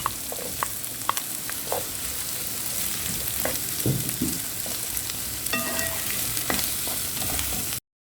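Diced onion and ginger fry in a pan with a steady, close sizzle, broken by occasional spoon stirs and scrapes, with no voices.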